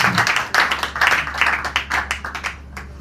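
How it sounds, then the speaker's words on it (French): An audience claps at a talk, with loose rhythmic bursts of hands that are moderately loud, over a low steady hum and a few faint voices. "On applaudit, n'est-ce pas?"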